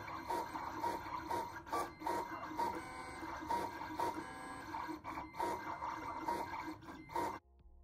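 A Siser Romeo vinyl cutter cuts a large design, a faint mechanical whir with rhythmic pulsing carriage strokes and short buzzes, then stops abruptly near the end.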